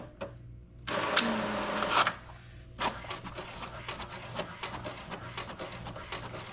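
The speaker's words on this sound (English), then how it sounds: "It's printing." An HP inkjet printer prints a family photo indoors, giving a loud mechanical whir for about a second, then a sharp clunk followed by a steady run of rapid clicking and shuttling as the print head works.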